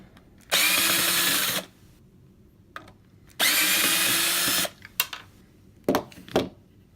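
A power drill removes screws from an AK-47 rifle during disassembly, whirring in two bursts of about a second each, with clicks and short rattles of screws being handled between them.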